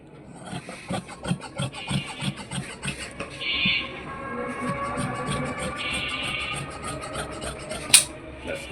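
Cotton fabric for a salwar being cut with scissors, a run of rhythmic rubbing snips and scrapes close by, with a brief sharp click near the end.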